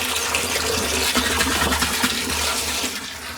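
Water gushing from a motor pump on a sugarcane farm field, a loud, steady rushing splash that carries on without a break, with no voices.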